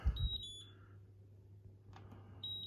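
A dishwasher control panel gives short electronic beeps while its timer is set, a few bright tones at the start and again near the end, with a low hum of the machine and room underneath.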